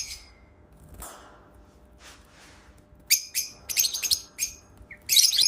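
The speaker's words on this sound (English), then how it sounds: "They make cute chirping and whistling sounds." Pet lovebirds give bright, high chirps and whistles, quiet at first and then a dense run of loud, close bursts in the last seconds.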